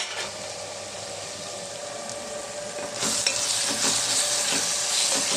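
Onions and okra fry in a pan with chili powder and coriander stirred in, a steady sizzle that swells louder midway as the spices are mixed and the spoon scrapes through.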